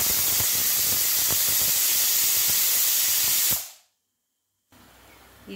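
A pressure cooker vents steam in a loud, steady hiss, with peanuts roasting inside on a high gas flame. The hiss stops abruptly, then after a short silence quieter background noise returns.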